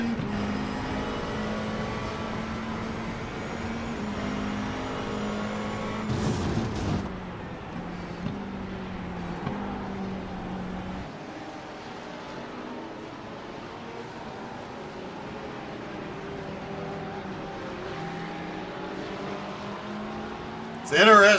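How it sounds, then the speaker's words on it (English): A McLaren GT3 race car with a mid-mounted exhaust at Silverstone, its engine droning steadily with shifting tones, loud at first and then easing into a fainter, more distant note, with some talk over it. "Oh, that McLaren does sound good."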